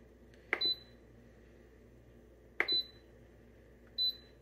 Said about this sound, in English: My one complaint about this Instant Pot is the obnoxious beeping.